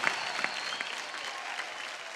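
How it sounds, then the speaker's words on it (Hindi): A studio audience on an Indian singing talent show breaks into applause, a sustained, even burst of many hands clapping with a few sharper individual claps near the start. "एक बार जोरदार तालियां हो जाए"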